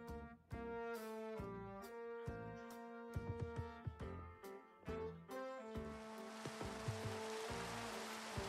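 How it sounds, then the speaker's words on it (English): Steady hissing rain in Minecraft, played in VR, builds in the second half beneath a plinking melodic game tune, with no voices. "Okay, I'm back, and it's raining."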